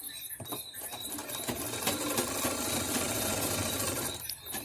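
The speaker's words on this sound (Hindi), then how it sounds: "इसे भी चारों तरफ से सिलाई कर देते हैं" A sewing machine stitches saree blouse fabric for a katori blouse, giving a close, steady, rapid mechanical chatter that runs almost without a break for about four seconds.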